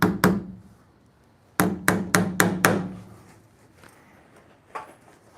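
Linesman pliers used as a hammer in a basement suite build, two sharp strikes, then a quick run of four evenly spaced blows, and one fainter tap after a pause, close and crisp.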